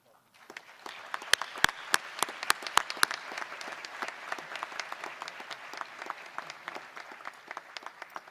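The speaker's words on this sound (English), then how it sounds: "Let us give our Alpha Lobos a round of applause." Audience applause at a high school graduation, scattered claps that build into a sustained round with some loud individual claps close by, fairly light overall.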